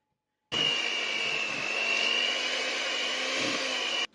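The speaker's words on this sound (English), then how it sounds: "with my electric whisk" An electric whisk beats cupcake sponge batter with lemon zest, starting abruptly after a moment of silence and running as a steady, loud, close whine with a slight pitch wobble before cutting off sharply.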